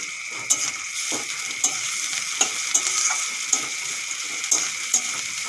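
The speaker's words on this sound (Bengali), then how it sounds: "পেঁয়াজগুলো এখন ভালো করে ভেজে নেব লাল লাল করে" Onions frying in oil with whole garam masala and curry leaves for a home-style chicken and potato curry, a steady close sizzle broken by regular clinks and scrapes of a spatula stirring the pan, with no talking.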